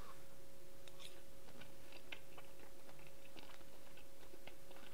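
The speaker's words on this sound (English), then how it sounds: "The skin's crunchy" Close, crisp crunching from someone chewing crunchy pan-fried parrot fish skin, a run of small irregular crackles over a low steady background hum.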